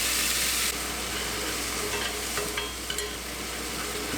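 Garlic fries in leftover oil in a pan, a dense steady sizzle that drops slightly in level early on, with a few faint scrapes and clicks near the middle, close and without speech.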